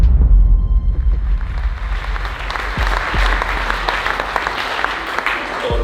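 At the Swiss Comedy Awards a large audience breaks into applause, loudest at the outset and then settling into a sustained wash of clapping that carries on throughout.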